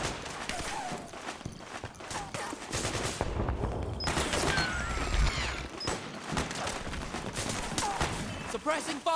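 Heavy suppressing gunfire in the PlayStation 3 game Metal Gear Solid 4, with dense overlapping automatic bursts, explosions and battlefield clatter, and voices shouting over the shooting.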